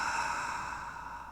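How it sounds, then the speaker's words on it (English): A single sharp gasping inhale taken during ocean breathing pranayama in a yoga practice, breathy and airy, close and fairly soft, fading slightly at the end with no talk over it. "Inhale with a gasp."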